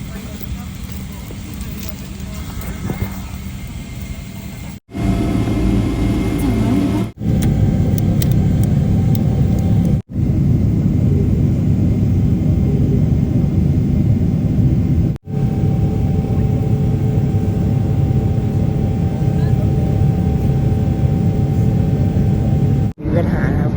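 Steady low cabin rumble of an airliner in flight to London, loud and continuous with brief dropouts, carrying faint background chatter from passengers.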